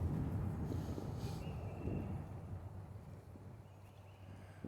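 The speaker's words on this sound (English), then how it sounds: "Got a little bit of wind now." Wind blows across a microphone on a park walking trail by a lake, a low, rumbling buffet that starts strong and slowly eases, with no voices.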